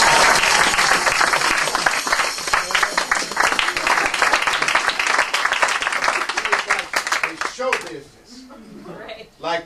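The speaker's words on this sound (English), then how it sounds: "That's how you get the applause." Audience applause during a comedy four-ring magic routine, a dense burst of clapping that fades near the end as a voice begins talking.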